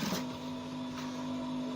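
Sewing machine stitching down the collar on a button-down shirt with a notch collar, a steady close mechanical hum running continuously after a brief start, with no voices.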